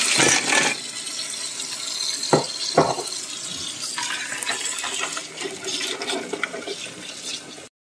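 Water pours steadily into a bowl, with a couple of sharp clinks of ice cubes partway through.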